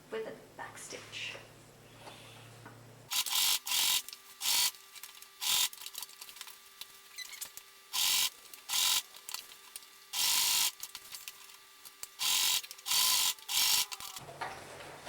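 Sewing machine back stitching the pocket tops of pyjama shorts, with loud close mechanical whirring in repeated short bursts separated by brief pauses.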